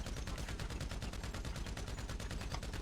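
Sustained automatic gunfire from a weapon in GTA V, a steady rapid stream of evenly spaced shots at moderate loudness with no pauses, heard alone.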